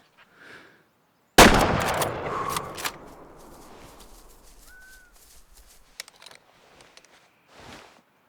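A single sharp, loud hunting rifle shot rings out in Way of the Hunter on an arctic map, with a long rolling echo decaying over several seconds, then quiet ambience with faint small sounds.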